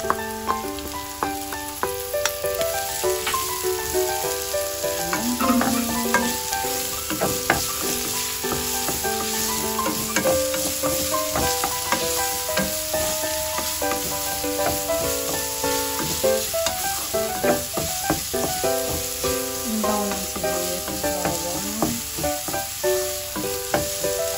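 Onion going into a pan after garlic for a Quezon-style adobo sa dilaw, frying with a steady close sizzle and stirring, under a continuous background of tonal music that runs throughout.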